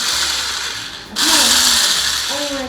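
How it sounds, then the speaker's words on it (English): An electric hand blender starts up and whirs steadily while creaming sugar and butter for Christmas sugar cookies, a loud close mechanical drone with faint voices murmuring beneath it. "I'm gonna use a hand blender today"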